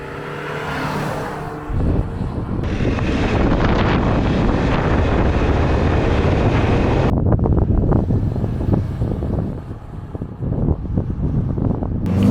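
A Ford Maverick Hybrid Lariat pickup's engine roars steadily as it accelerates at full throttle through its CVT, with heavy rumble and wind noise throughout and a brief shift in tone partway through.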